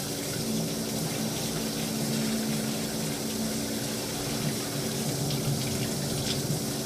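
Tap water runs steadily into a sink while an RC car body is being scrubbed, a constant close rushing wash with no speech.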